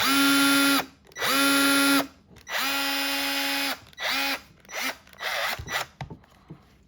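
A Ryobi cordless drill whirs in several short bursts, spinning up and stopping, the later pulses briefer and more clipped.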